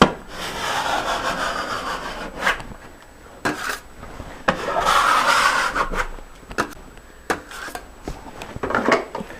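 Rough scraping strokes as the torn edges of a large hole in drywall are cleaned up, coming in uneven bursts with short pauses between them, close and fairly loud.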